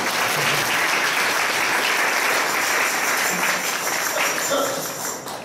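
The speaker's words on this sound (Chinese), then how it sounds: "掌声太响" Congregation applause fills a church hall during a cross-cultural mission sermon, a dense, steady wash of many hands clapping that carries on throughout and tapers slightly near the end.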